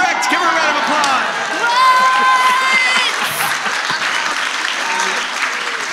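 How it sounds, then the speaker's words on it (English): A live festival audience breaks into loud applause with cheers and whoops mixed in, the clapping sustained throughout while voices and shouts rise over it. "Give her a round of applause."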